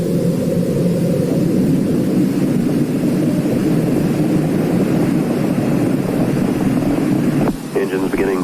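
Space Shuttle Challenger's rocket engines roar steadily during launch, a dense low rumble that holds constant before cutting off abruptly near the end.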